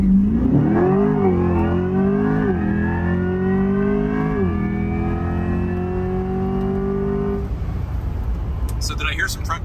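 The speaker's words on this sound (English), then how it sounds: "now we're going to do an acceleration run. We're going to do a launch control launch." A hybrid all-wheel-drive 2024 Chevrolet Corvette E-Ray launches hard, its engine climbing through rising gear pulls with brief dips at each shift, loud and close for several seconds before fading, with a voice briefly heard at the end.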